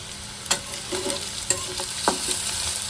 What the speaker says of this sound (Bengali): পেঁয়াজটা আগে ভেজে নিচ্ছি